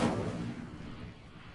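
A fire spell cast in the Hogwarts Legacy video game lets out a sudden loud whooshing burst that fades into a rumbling tail within about a second and a half.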